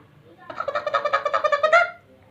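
A voice imitates a chicken clucking, a short run of rapid nasal clucks lasting under two seconds.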